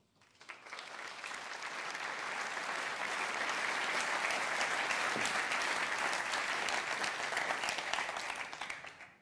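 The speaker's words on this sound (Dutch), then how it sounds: "Welkom en bedankt voor het applaus." An audience applauds a sports monologue performer at a stage show, dense steady clapping that swells in after a second, holds evenly for several seconds, then tapers off near the end.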